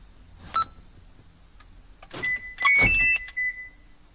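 Door locks on a 2006–2010 Toyota RAV4 actuate on a Fortin remote start unlock command, giving a sharp click followed by a cluster of short mechanical thunks and a brief beep, nearby and distinct against a quiet background.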